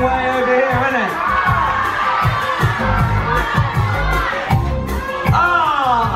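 A crowd cheers at a game on the deck of the Carnival Horizon cruise ship; loud, continuous shouting and cheering, including high-pitched children's voices, fill the space without a break.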